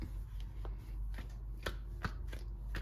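Roti dough slaps from hand to hand in a quick, uneven series of soft claps and pats, fairly close, with no talking.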